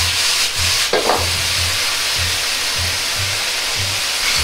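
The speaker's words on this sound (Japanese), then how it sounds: "材料に吸わせるように炒めます" King oyster mushrooms and broccoli stir-fry in a wok with sauce and starch, a steady sizzling hiss under regular rhythmic scraping strokes of a spatula, close and even throughout.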